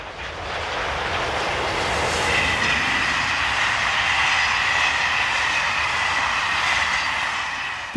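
Locomotive 7230 hauling a passenger train from Paris to Orléans passes with a loud, steady rumble and rushing roar, wheels rolling continuously at close range with no talking.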